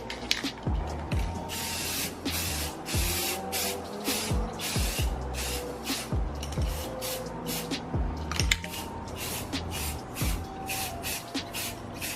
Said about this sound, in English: Spray layers upon layers until you achieve a metallic silver finish